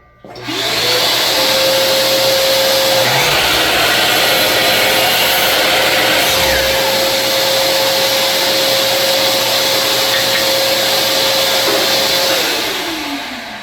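A Makita LS1019L miter saw cuts through a 2x4 with its dust collector running, giving a loud, steady motor whine over broad rushing noise that spins up, holds for about eleven seconds, then winds down.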